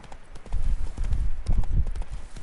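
Horse hooves galloping in a quick, rhythmic clip-clop in The Witcher 3: Wild Hunt, close and fairly loud, with a faint game-like ambience and no speech.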